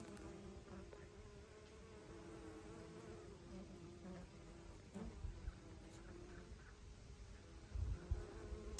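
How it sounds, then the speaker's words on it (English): Honeybees foraging on broccoli flowers in a late-season garden, a faint close buzzing hum of several bees with a few louder passes near the end. "My honeybees are loving the broccoli flowers."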